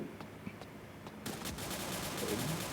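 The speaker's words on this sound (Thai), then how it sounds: "มีการยิงกันเกิดขึ้น" Rapid bursts of automatic gunfire in a shooting video game, a brief volley early on, then dense, continuous firing that grows louder and keeps going.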